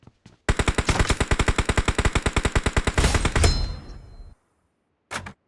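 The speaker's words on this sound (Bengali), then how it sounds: "এমনি ফায়ার করতেছি, দেখছি একটা রে।" Sustained automatic gunfire in the battle royale video game PUBG on the Livik classic map, a rapid, loud, evenly spaced burst of about thirty shots lasting several seconds, then a brief pause and one more short shot.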